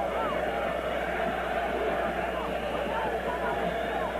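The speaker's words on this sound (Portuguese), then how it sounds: "E a torcida do Guarani canta mais alto aqui no Morumbi." Guarani supporters singing loudly in Morumbi stadium during the 1988 Campeonato Paulista final against Corinthians, a dense, continuous crowd chant filling the whole stretch with a commentator talking over it.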